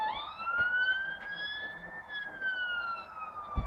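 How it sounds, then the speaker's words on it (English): An ambulance siren wails continuously beside a main road, its rising and falling tone passing steadily and fairly loud against faint traffic rumble, with no talking. "the usual response is that it's an ambulance, which it is today"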